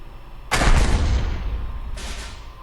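T-19 howitzer artillery fires in the KARDS WWII card game as one loud, booming shot with a long rumbling tail, then a second, weaker blast rolls out moments later, with no talk.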